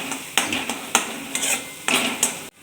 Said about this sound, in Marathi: आता हे आलं लसूण पेस्ट पण छान अशी आपल्याला दोन मिनिटासाठी परतून घ्यायची आहे तेलामध्ये